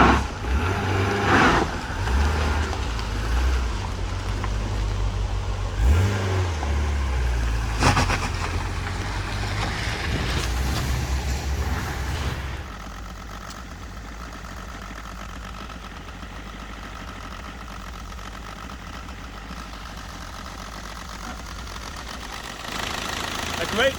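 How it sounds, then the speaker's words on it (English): Several diesel engines, among them an R40, run and idle together in rainy weather, a rough, knocking mix of rumbles with revving bursts that eases into a lower, steadier drone halfway through. "A great musical cacophony of diesel engines."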